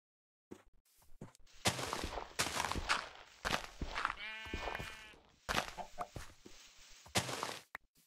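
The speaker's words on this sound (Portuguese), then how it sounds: "Que animal é esse? É uma ovelha." Sheep bleats from the video game Minecraft sound among footstep-like taps and other in-game effects, a brief tonal bleat rising mid-clip, fairly clear against the busy game audio.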